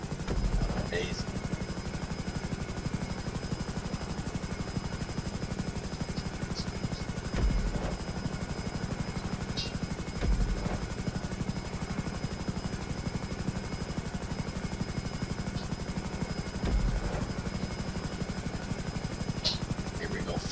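A helicopter in a flight video game drones steadily throughout, its rotor hum holding level through tight cornering, with occasional brief thumps and clicks over the continuous engine sound.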